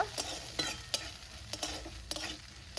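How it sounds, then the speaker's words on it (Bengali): Prawns with turmeric, salt and spices frying in a pan, a steady crackling sizzle broken by a clear scrape of a spatula about every half second, close and alone with no voices. "লবণ মশলাগুলো দিয়ে ভালো করে মাছগুলো ভেজে নেব"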